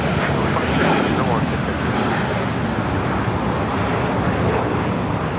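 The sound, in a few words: United Airlines Boeing 787-9 Dreamliner taking off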